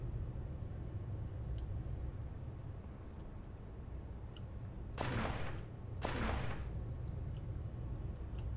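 Weapon fire in the Space Engineers video game, two sharp bursts a second apart rising over a constant low rumble, with scattered faint ticks throughout.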